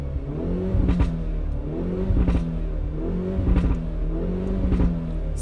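A Hyundai i30 Fastback N sits parked in N mode with the handbrake on while its engine is revved four times, each rise a deep throaty surge with popping crackles on the overrun, then settling to a rumbling idle between blips.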